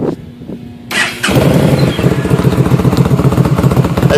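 A 2013 Yamaha Stryker motorcycle with a drilled exhaust starts up and settles into a loud, close, rapid idle with a deep, pulsing thump and no talk.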